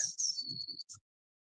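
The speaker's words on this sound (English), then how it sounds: "You can hear the birds chirping out there, singing away." Birds chirp and sing outdoors on a fine day, a few thin, bright whistled notes and short tweets lasting about a second before falling silent.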